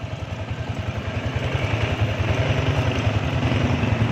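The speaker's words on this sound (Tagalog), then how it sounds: "ngayon guys maingay siya kasi parang ano siya parang kumakain ng bato" A new Yamaha Sniper 155 motorcycle chugs close by with a rapid mechanical clatter from its noisy chain, growing louder partway through and then holding steady.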